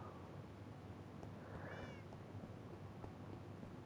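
Pet cats in the video game Minecraft on PS5 give a short electronic meow in the middle, set against a steady low background hum.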